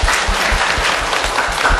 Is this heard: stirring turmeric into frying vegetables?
no